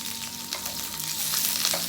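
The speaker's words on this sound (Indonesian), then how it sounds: "tarasi tuh digoreng heula." Shrimp paste fries in a pan with tomato, shallots and garlic, giving a brief, close and steady sizzle that swells slightly toward the end.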